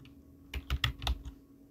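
Keys on a computer keyboard tapped in a quick burst of about five close, crisp clicks as text is entered in illustration software, with near silence before and after.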